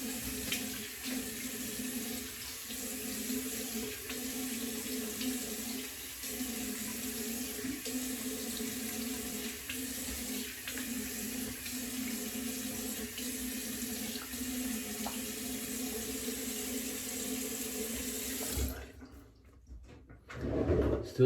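A tap runs steadily into a sink while someone rinses their face after shaving, a constant close rush of water that stops near the end, followed by a few brief handling sounds.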